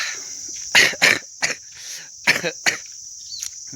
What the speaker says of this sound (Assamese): মানে কাহ লাগি আছে আজি